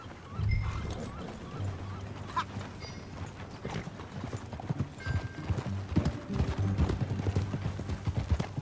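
Horse hooves clip-clop steadily while riding in Red Dead Redemption 2, a continuous trotting beat layered over low game ambience with an occasional whinny and brief voices.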